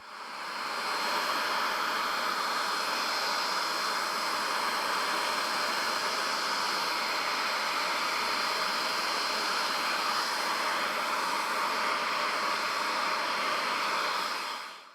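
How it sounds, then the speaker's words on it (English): A Bissell Spot Clean Pro wet vac cleans car mats on a cold, damp driveway, giving a loud, steady motor drone with airy suction hiss that runs unbroken and alone. "filled the tank of the Bissell Spot Clean Pro with the branded formula that came with the machine and got to work giving the mats a ghetto wet vac"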